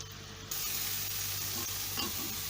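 Koftas frying in a pan of oil, a dense, continuous close sizzle that jumps louder after a moment and holds steady.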